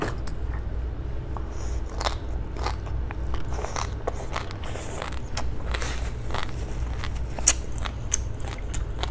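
Fish mint (yuxingcao) root is chewed close to the microphone, with repeated crisp, crackly crunches in an uneven rhythm over a quiet low background.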